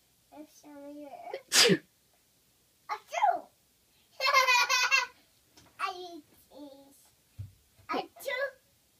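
A child sneezes once, sharp and close, amid a child's babbling and an adult talking softly before and after.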